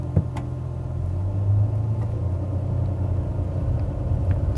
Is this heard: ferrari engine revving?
yes